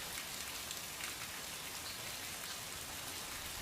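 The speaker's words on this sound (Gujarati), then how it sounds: "સતત બીજા દિવસે વરસાદ વરસ્યો" Monsoon rain falling in Desar taluka, Vadodara, Gujarat: a steady, even hiss of rain on surfaces with a continuous patter, heard alone without any talk.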